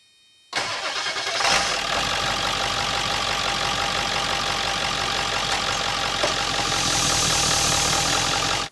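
A Ford F-250 7.3 diesel cranks and fires after a vacuum pump replacement, then settles into a loud, steady clattering idle heard close up, with a brief clunk near the start.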